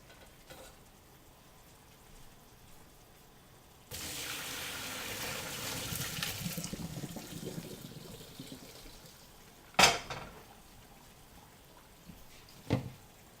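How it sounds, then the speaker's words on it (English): Pasta water pours and splashes into a colander as cooked pasta is drained, a rushing gush lasting a few seconds that tapers off, followed by a couple of sharp metallic knocks in an otherwise quiet kitchen. "We're going to go ahead and drain this in the colander."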